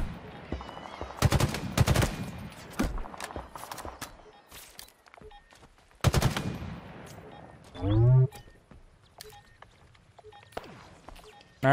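Halo Infinite battle rifle gunfire in sharp clustered bursts, loud and close, separated by quieter gaps, with a spoken voice briefly heard between shots.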